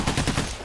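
A short, rapid burst of video game gunfire: several quick, loud shots fired in succession within under a second.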